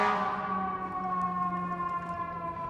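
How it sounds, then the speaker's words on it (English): Wailing emergency sirens outside, a steady held tone with slowly shifting pitch, loud and continuous throughout with no talking over it. "I'll wait for these sirens."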